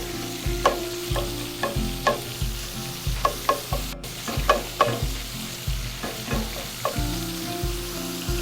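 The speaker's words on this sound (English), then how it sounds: "We're gonna put this in here, and we're gonna let that bacon render so we have some fat." Bacon sizzles and renders in a hot, slightly smoky pan: a steady, close frying hiss broken by frequent light clacks and scrapes of a utensil stirring, with no talking.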